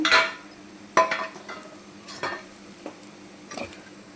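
Fried taro (arbi) pieces being scooped from a pan into a bowl in a home kitchen: a few sharp metal-spoon scrapes and clinks against cookware, spaced irregularly, with faint residual sizzle beneath and no talk.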